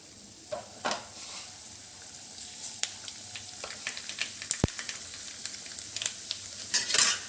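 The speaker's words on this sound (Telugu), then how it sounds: "ఆయిల్ వేడెక్కిన తర్వాత దీనిలోకి మనం పోపు వేసుకోవాలి. దానిలోకి ఫస్ట్ శనగపప్పు, తర్వాత మినప్పప్పు, ఆ తర్వాత ఆవాలు, జీలకర్ర వేసుకోవాలి." Chana dal, urad dal, mustard seeds and cumin sizzle in hot oil for a tempering, with steady close frying hiss, scattered pops and a spoon stirring and tapping the pan, no talking.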